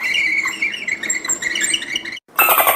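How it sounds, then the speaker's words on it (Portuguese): A dolphin calls in a rapid series of high, squeaky whistles and clicks, loud and close, broken by a brief silence before another burst of chatter. "Muito bem, um golfinho."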